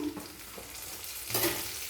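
Vegetables and bean pieces, salted, stir-fried in a pan for vegetable fried rice, giving a close, steady sizzle with scraping stir strokes that swell louder near the end.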